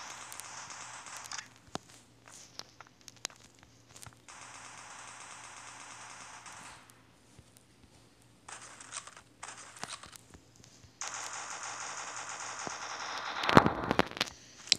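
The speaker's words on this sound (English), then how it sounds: "I just shoot all over the house." Gunfire inside a house in the video game Dude Theft Wars, sharp bursts and rapid volleys broken by quieter gaps, ending with a loud cluster of shots.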